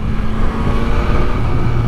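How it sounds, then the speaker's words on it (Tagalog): A Yamaha MT-09 naked motorcycle on its stock exhaust muffler revs close by, giving a loud, continuous engine drone with a slight rise in pitch toward the end. "Naka-stock exhaust pa tayo, kaya tahimik pa ang ating muffler."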